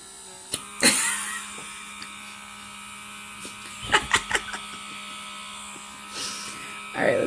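A small comedo pore vacuum buzzes in short bursts, its motor whine rising and breaking off as the suction grabs and releases skin, with soft handling noises between the bursts.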